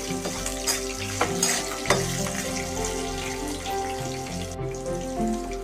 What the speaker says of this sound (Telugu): ఇప్పుడు కరివేపాకు వేసుకుంటా ఉన్నాను వేసుకొని కలుపుతా ఉన్నాను